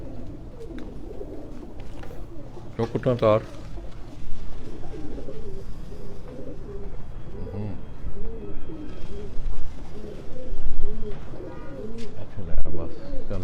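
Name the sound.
pigeons cooing at someone's loft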